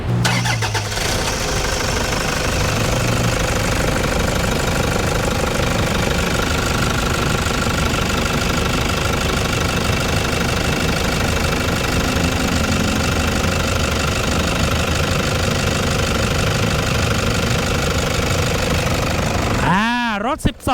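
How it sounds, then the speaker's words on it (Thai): The 3.0-litre diesel engine of a 2013 Toyota Fortuner with 240,000 km idles close by, a loud, steady rumble with a rattling clatter running throughout, ending with a brief clunk. "ฟังเสียงเครื่องยนต์กันไป"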